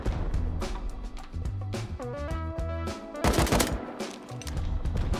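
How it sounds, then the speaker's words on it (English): Rapid bursts of video game gunfire, loud and close, with automatic fire rattling in quick succession and some musical tones mixed underneath. "I'm shooting the guys on roof all day"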